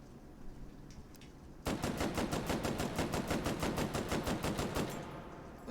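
Automatic gun firing in the VR game Hot Dogs Horseshoes and Hand Grenades: after a quiet start, a sudden sustained burst of evenly spaced rapid shots rattles on for several seconds, then stops abruptly.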